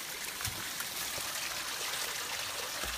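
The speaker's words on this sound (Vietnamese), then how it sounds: "Ở suối rừng đấy các bạn." A clear forest stream flows with a steady, close rushing and trickling wash of water that never lets up.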